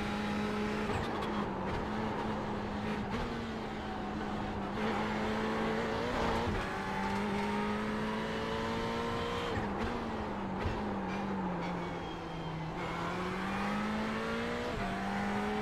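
A race car lapping the Spa circuit in the iRacing sim, its engine droning loud and continuous with pitch rising through gears, dipping under braking and climbing again, with brief tire noise along the way.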